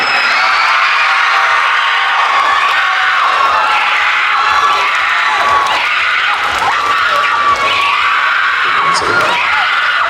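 A lively crowd at an anime night market in a mall cheers, whoops and yells for cosplayers, a dense, loud, continuous roar with high-pitched shouts rising throughout and an amplified voice mixed in.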